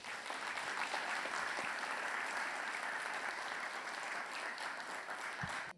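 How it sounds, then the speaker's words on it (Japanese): Sustained applause from a seminar audience after a presentation on architectural visualization, a steady even wash of clapping held for several seconds at a fairly low level, with no voices on top. "もう一度大きな拍手をお送りいただければと思います"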